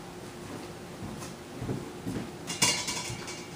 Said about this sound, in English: we're going to put that into this bowl and mix the other things with it